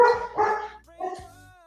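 A dog barks excitedly indoors, two quick loud barks followed by a higher yip or whine, close to the microphone.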